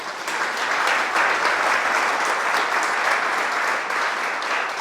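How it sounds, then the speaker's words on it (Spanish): Sustained applause from a church congregation during a sermon, many hands clapping in a loud, continuous, even roar from start to finish. "Dale un aplauso al Señor."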